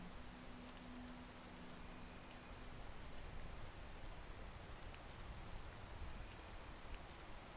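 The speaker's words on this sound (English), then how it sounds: "While we wait for the rain to dissipate." Steady rain in the video game PEAK pours down as a dense, constant hiss that holds evenly from start to finish, with no voices.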